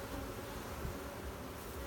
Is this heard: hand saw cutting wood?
no